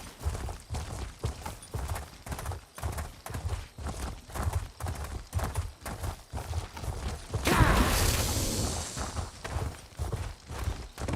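Steady rhythmic clip-clop of horse hooves walking in The Elder Scrolls Online, close and regular throughout, with a brief louder whoosh midway; no neigh stands out clearly.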